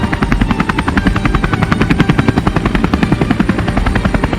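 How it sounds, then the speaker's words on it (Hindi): A rescue helicopter thunders close by in a survival film, its rotor blades chopping in a fast, steady rhythm that stays loud throughout. "एक रेस्क्यू हेलीकॉप्टर की आवाज आई।"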